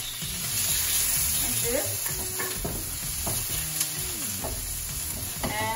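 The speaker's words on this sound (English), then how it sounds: "I got 1 onion chopped. I'm gonna cook that" Chopped onion frying in about three tablespoons of hot oil for samosa stuffing, sizzling steadily up close with intermittent stirring while a person talks over it.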